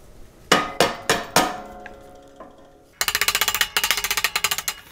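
Hammer blows drive out a chute height control pivot pin on a Yard Machines YT624EJ snow blower, four ringing metallic strikes with pauses, then a rapid burst of about a dozen quick, sharp taps, close and loud.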